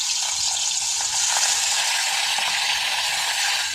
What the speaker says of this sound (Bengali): তেল গরম হয়ে গিয়েছে, মাছগুলো ভেজে নিচ্ছি আমি।